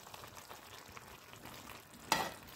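Food bubbles in a pot on a home stove, a faint, soft, continuous simmering hiss that ends in a single sharp metallic clink near the end.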